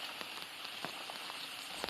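Rain falls in a soft, continuous hiss on the surfaces outdoors near a pond while fishing, with scattered louder drop taps, faint and steady and with no voices.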